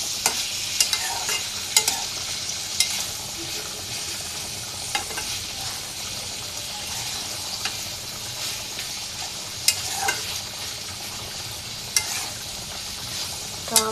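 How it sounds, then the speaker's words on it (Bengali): A spice mixture is stirred in a hot frying pan, with a steady sizzle and frying hiss broken by sharp scraping clicks of the utensil against the pan. "তারপর মশলাটা আমি একটু মিক্সড করে নেব।"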